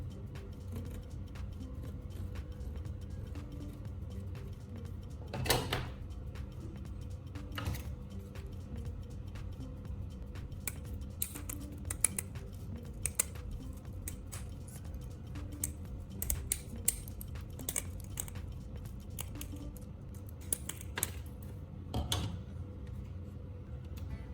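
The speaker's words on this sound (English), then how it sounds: "Cut the mesh to match the shape of the hole." Scissors snip metal mesh cut from an old strainer, giving sparse, sharp clicks and crunches spread irregularly over a steady low background hum, close and quiet, with no voices.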